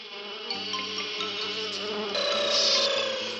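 A swarm of cartoon magic mosquitoes buzzes continuously, a dense high whine layered over a low rhythmic musical score, swelling louder toward the end.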